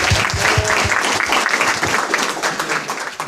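Audience applause for hackathon winners, a dense, steady crowd clapping heard up close and loud throughout, with a little talk blended in.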